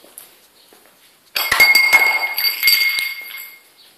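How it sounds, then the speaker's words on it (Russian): Broken glass underfoot in an abandoned warehouse, a sudden burst of bright clinking and crunching with ringing shards for about two seconds, close and fairly loud, trailing off after quiet near-silence. "повсюду битое стекло"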